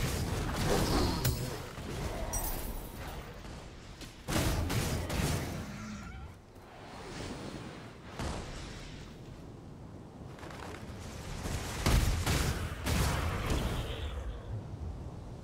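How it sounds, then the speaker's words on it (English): Artillery bombardment in the video game Torchlight Infinite: heavy, rolling booms and blasts pound almost without pause, loud and dense, with thick crashing layers swelling and easing across the whole stretch. "The bombardments are getting more intense."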